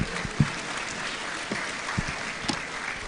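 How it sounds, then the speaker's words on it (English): A summer school audience at KNUST claps after a musical performance, a faint, thin scattering of individual claps with quiet room noise, sounding distant and small rather than a full ovation. "A round of applause for them one more time."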